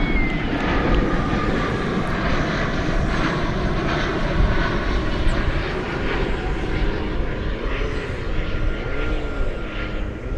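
American Airlines jet on runway 18L at DFW airport, loud continuous engine roar with a whining tone and shifting rumble, close and sustained throughout.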